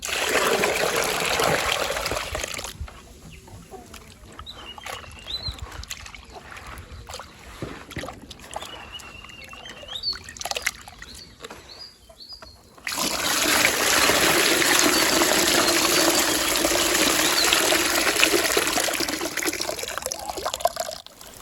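Water poured over maize kernels to wash them on a poultry farm, heard as loud rushing, splashing bursts at the start and again in the second half, with a quieter trickling gap between.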